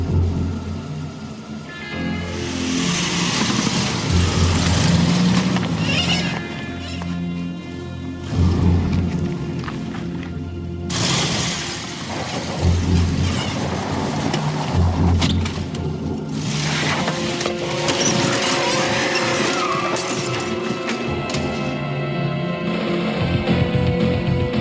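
A car engine starts and roars off during a crime drama scene, with tires skidding. Loud, harsh bursts of engine and tire noise surge and fade over about twenty-five seconds, with no speech.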